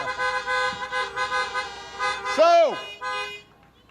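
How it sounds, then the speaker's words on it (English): Car horns honk at an outdoor political rally in Miami, a steady blaring tone with a bending, wailing note near the end, loud and sustained, with a voice briefly heard. "You got that horn honking good."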